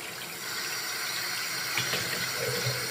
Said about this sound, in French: Alors déjà je vais allumer l'eau.